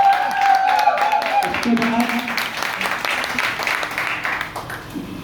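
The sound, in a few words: audience applause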